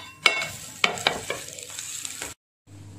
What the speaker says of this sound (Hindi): इसी तरह दूसरी साइड को भी ब्राउन करना है, शैलो फ्राई करना है मीडियम फ्लेम में।